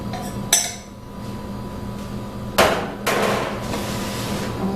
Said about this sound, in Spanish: Vamos a mezclar un poco más.